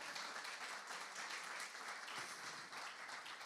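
Congregation at a church service breaks into steady, dense applause that holds evenly for the whole stretch, broad and full like a crowded room clapping together, with a faint voice barely rising beneath it.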